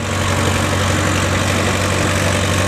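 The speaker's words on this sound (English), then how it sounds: "driving that tractor" A tractor engine idles at a St. Patrick's Day parade, a loud, steady low rumble close by with a constant hum and no talking.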